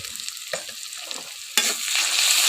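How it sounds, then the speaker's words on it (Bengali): Ground spices with salt, turmeric and coriander stirred and lightly fried in a pan for a fish curry, soft scraping strokes followed by a rising, steady sizzle close by. "এগুলোকে আমি ভালোভাবে নাড়াচাড়া করে হালকা একটু ভেজে নেব।"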